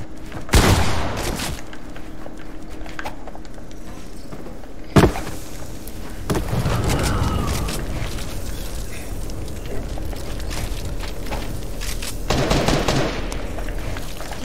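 Gunfire from the video game Fortnite rings out as a few sharp, loud shots spread across the span, over a steady background of game ambience.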